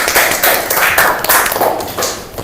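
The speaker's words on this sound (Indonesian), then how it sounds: "Tepuk tangan" A classroom of Indonesian-language students claps in quick, rhythmic bursts, loud and close, as a short patterned round of hand claps with a few heavier taps.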